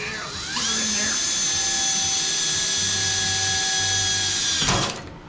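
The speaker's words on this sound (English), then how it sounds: "I gotta get the bit back in the drill to drill some pilot holes" A power drill whines loudly and steadily for several seconds drilling pilot holes, then spins down and stops.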